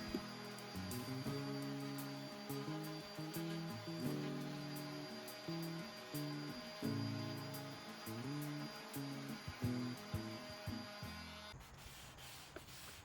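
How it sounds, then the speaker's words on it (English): A power sander grinds steadily on wooden drawers with a wavering motor whine and scraping texture, then cuts out near the end, leaving quieter background noise. "I'm just going in with my sander and I'm sanding everything down flush"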